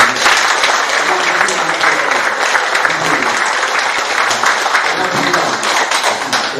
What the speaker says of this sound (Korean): 이번 성원수님을 위해서 큰 박수